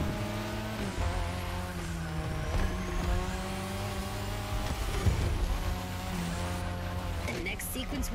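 A racing car in The Crew Motorfest revs hard through its gears, the engine note climbing and dropping with shifts, with brief tire squeal and passing cars during a race, loud and close, with some talk over it.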